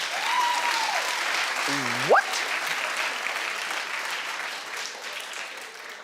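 Studio audience applauding steadily across the whole stretch, a broad even wash of clapping with cheers and a voice rising over it near the middle.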